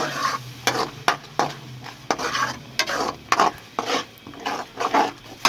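A spoon scrapes and stirs thick chicken kofta gravy in a pan, with repeated close scraping strokes in an uneven rhythm over a light sizzle.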